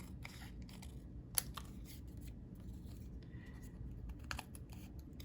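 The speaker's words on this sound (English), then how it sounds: "I'm going to turn it over and just cut off my excess." Scissors snipping off excess paper during a paper craft project, a series of faint crisp cuts at irregular intervals over a quiet background.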